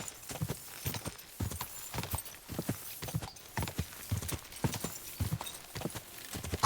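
A horse in Kingdom Come: Deliverance 2 gallops at a steady, rapid clip-clop, hooves thudding close and even throughout, with a faint snort near the end.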